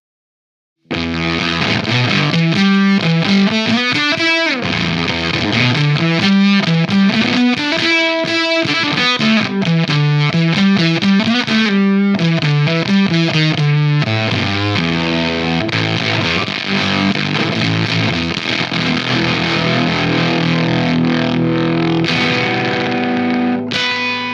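An electric guitar through an extreme distortion pedal plays loud, saturated riffs with sustained, fuzzy notes throughout, with no talking.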